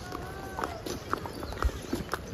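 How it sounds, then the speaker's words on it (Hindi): Horses carrying pilgrims along a mountain trail at Pahalgam, Kashmir, with clip-clopping hooves and jingling bells in an irregular walking rhythm at moderate distance, amid outdoor ambience. "यहाँ पे ऑलमोस्ट सभी लोग घोड़े पे जा रहे हैं।"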